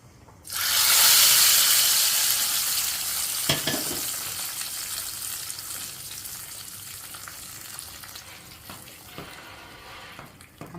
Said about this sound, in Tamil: இப்போ நம்ம தாளிச்சதை அதில் சேர்த்துற போகிறோம்